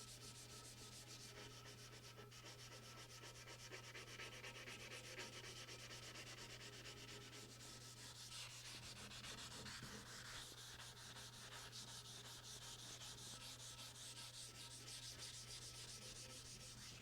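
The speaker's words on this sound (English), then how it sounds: "that mineral spirits is acting as a lubricant when sanding so that this 320 grit doesn't get clogged up and keeps sanding" Wet sanding on a Unisaw table saw restoration with 320 grit wet-dry sandpaper lubricated by mineral spirits: a continuous, even rubbing and scrubbing hiss, close and steady throughout, faint overall, with a low constant hum beneath and no talking.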